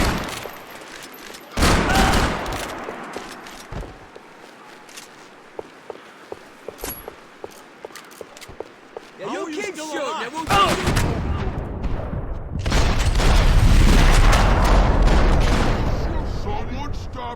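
Bursts of gunfire and heavy shooting from the video game Max Payne 3, with scattered sharp shots early and dense, loud volleys later, mixed with other action noise and voices.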